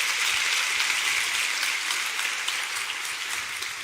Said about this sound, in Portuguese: Dá uma salva de palmas por isso.